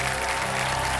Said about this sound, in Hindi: जोरदार तालियां बज जाए एक बार जनता की